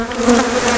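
Honey bees buzz around a brood frame in a hive during a spring split, a dense, close, continuous hum lasting under a second.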